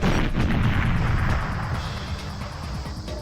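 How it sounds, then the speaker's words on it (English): Mines detonate in the Goldeneye 007 video game as a loud, rumbling wash of explosion noise that fills the whole clip and slowly settles, with no speech over it. "But if we detonate the mines,"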